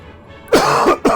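A man, recovering from a lingering cough, clears his throat loudly and coughs twice in quick succession, close to the microphone in a quiet indoor room.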